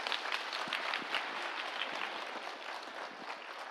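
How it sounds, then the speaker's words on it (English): An audience at a musical meditation session applauds the performing artists with soft, even clapping that carries on for a few seconds at a moderate, slightly distant level. "Let us give a big clap for our artists who have performed today"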